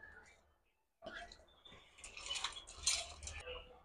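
Washed lentils (dal) go into a pot of simmering rice for a Jaffna kulaisatham, giving soft clinks of utensils and pot, wet splashy rustling and light dripping, faint and close, after a brief pause.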